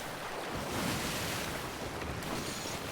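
Continuous ocean waves in the pirate video game Sea of Thieves, a steady washing surf with wind rushing across it, moderately loud and without voices.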